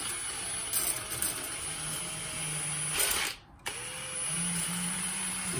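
Metal nuts spinning down a threaded rod held single-handed, a steady whirring, ratcheting rattle heard up close with a brief dropout midway before the spinning resumes.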